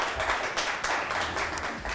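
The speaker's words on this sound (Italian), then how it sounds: "Facciamo un applauso" Applause for contestants at the Miss and Mister Top Team pageant fills the room as a dense, continuous wash of many hands clapping at steady loudness throughout.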